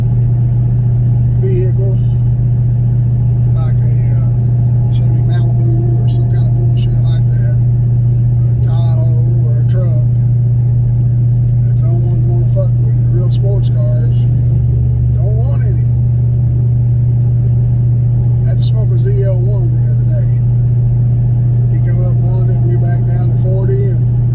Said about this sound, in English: I enjoy driving the car, and being in a Hellcat's a little different.